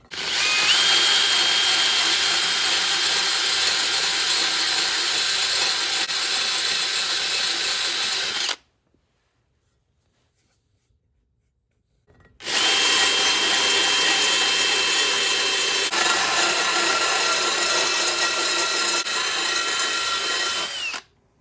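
A power tool grinds and cuts steadily, opening up bolt holes in a cast iron exhaust manifold being ported for better flow. Two long, loud, continuous bursts of harsh whirring are separated by a few seconds of silence.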